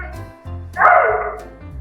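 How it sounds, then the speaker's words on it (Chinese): A giant panda lets out a short, dog-like bark while roughhousing with another panda, one loud harsh burst rising over steady background noise. "叶子居然被花花弄出了狗叫声。"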